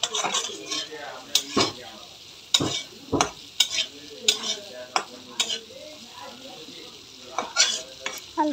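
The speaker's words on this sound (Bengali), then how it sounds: "আলুটা হচ্ছে ভালো করে কষাবো।" Potatoes being stirred and fried in a pan, a soft sizzle under repeated scraping and clanking strokes of a utensil against the pan at an uneven pace.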